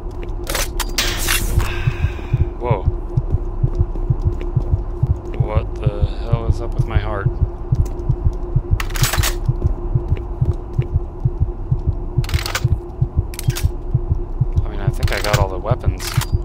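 Steady, pounding heartbeat from the video game Doom 3, a rhythmic low throb repeating throughout over a constant hum, with brief bursts of other game sounds layered on top.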